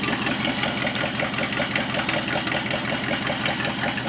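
An AMC 401 V8 in a Jeep idles with its muffler blown off, giving a loud, steady, rough exhaust rumble with a fast, even, throbbing pulse that runs on without a break.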